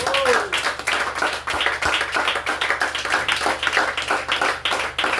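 A congregation at a church service claps rhythmically in praise, close, loud, even beats running throughout, with a brief voice at the start.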